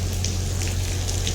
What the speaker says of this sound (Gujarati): વરસાદ ચાલુ થઈ ગયો